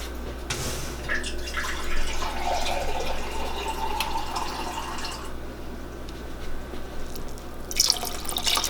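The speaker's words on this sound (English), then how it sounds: "So I'm going to add just a touch more of water." Water trickles and drips steadily into a pot of corn chowder made with veggie broth, a continuous close splashing flow with a low background hum, no talking.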